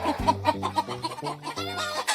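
A hen clucks in short, agitated bursts after being startled near her eggs on an island farm, the calls close and loud with a few rising squawks and no talk.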